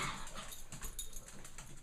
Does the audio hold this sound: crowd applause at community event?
no